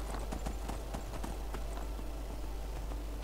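A horse gallops in Skyrim, its hooves beating a steady, quick clip-clop rhythm throughout, moderately quiet over a constant low rumble.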